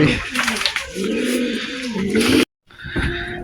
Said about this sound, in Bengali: আমার এই ঘরেও কিন্তু কবুতর আছে পাশে